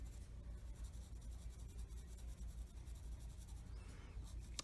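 A pencil shades gradients on paper with a soft, steady scratching of graphite strokes, faint and close, continuing evenly without voices.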